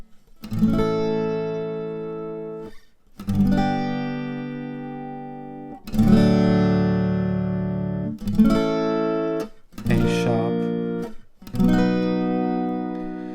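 An electric slide guitar plays a slow twelve-bar blues in B in open D tuning, with sustained, ringing chords struck one after another and left to decay.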